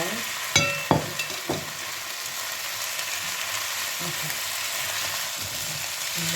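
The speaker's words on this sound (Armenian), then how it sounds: "ավելացնում ենք կանաչ պղպեղներ, ավելացնում ենք միսը," Green peppers and chicken meat frying in a pan for a summer dish with zucchini and potatoes, a steady soft sizzle with a few sharp clatters of stirring near the start, no talking.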